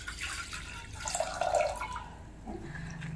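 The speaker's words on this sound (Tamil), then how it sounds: "இதில் கொஞ்சம் தேவையான அளவு தண்ணி சேர்த்துக்கோங்க." Water pours into a pressure cooker on a kitchen stove, a soft, close splashing trickle that runs steadily for a few seconds without any talk.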